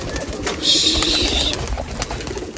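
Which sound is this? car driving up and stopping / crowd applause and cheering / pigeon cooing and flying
pigeon cooing and flying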